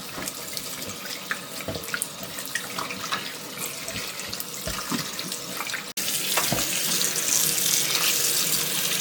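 A kitchen tap runs steadily as fresh butter clumps are rinsed under it, with splashing water in a sink that grows louder after a brief break.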